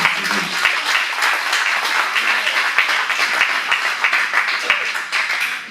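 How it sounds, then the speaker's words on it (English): An audience at a jazz club applauds the bass player, a continuous burst of close clapping with a few sharper claps and voices mixed in. "So let's give a big round of applause to Craig Charlotte on the bass"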